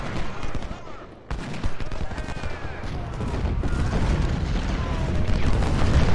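Dense Civil War battle gunfire in the strategy game Ultimate General: Civil War, during the Siege of Suffolk: continuous overlapping volleys and booms form a loud, unbroken roar that builds steadily.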